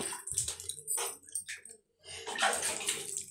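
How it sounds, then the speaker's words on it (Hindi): Water poured by hand in small amounts onto soaked wheat sprouts, short close splashes and trickles in separate bursts with a brief pause between them. "इसमें हम थोड़ा थोड़ा पानी डाल देंगे, क्योंकि नहीं ज़्यादा नहीं डालना बेटा, हाथ से ही डालेंगे"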